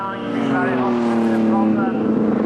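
Triumph TR race cars lapping a circuit in a 1995 Triumph TR Racing Register race, one engine note close and loud, rising and holding a steady droning pitch as it passes, with a commentator talking over it.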